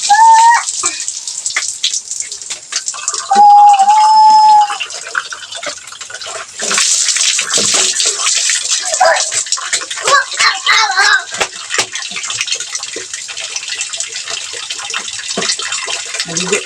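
Water is poured over someone bathing outdoors in hot weather, making loud splashing bursts and a running gush after a quieter start, while people talk.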